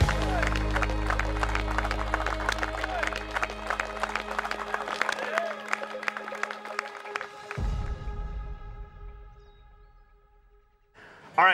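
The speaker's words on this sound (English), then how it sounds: "So one more round of applause." A crowd applauds at a kayak bass fishing tournament awards in La Crosse, Wisconsin, with dense clapping that fades out after several seconds while a voice speaks over it.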